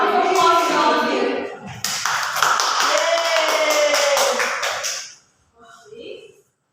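A classroom of students applauding, a burst of several seconds of clapping mixed with voices and excited chatter, fading out near the end.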